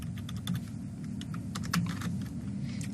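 Code being typed on a computer keyboard, a close run of quick, uneven key clicks and taps over a low steady hum.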